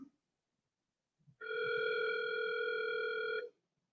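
A single outgoing-call telephone ring tone sounds as a steady, clear electronic burst of about two seconds in an otherwise quiet room.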